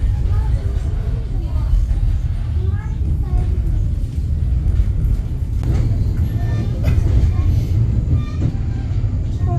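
A children's railway train in Kyiv rumbling along the track, a steady low, heavy rolling noise heard from on board throughout, with faint voices of people talking beneath it.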